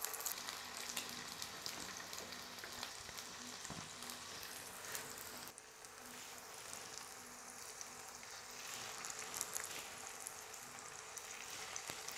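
Diced tomatoes and potatoes fry in a hot pan over a lowered flame, giving a steady, dense sizzle that stays even and close for the whole stretch with no talking.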